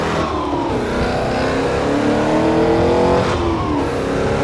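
An old car's engine revs and accelerates steadily on a street, loud and close, its pitch rising and falling as it gathers speed.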